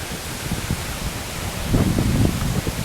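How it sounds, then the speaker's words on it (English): Wind gusts outdoors in a garden among trees, a loud broad roar buffeting the microphone that swells stronger toward the end, with no voice over it. "Oh, this wind."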